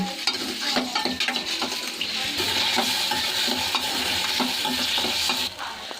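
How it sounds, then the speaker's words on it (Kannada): Chopped tomatoes for a tomato cashew chutney frying in oil while being stirred, with a loud continuous sizzle broken by repeated scraping and clinking of a utensil against the pan, no voices. "ಆಯಿಲಲ್ಲಿ ನೀಟಾಗಿ ಫ್ರೈ ಮಾಡ್ಕೋಬೇಕು ಫ್ರೆಂಡ್ಸ್"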